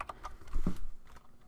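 A few quick keystrokes on a computer keyboard, including a shifted Z typed while entering symbols into a state diagram, sounding close and faint with no talk.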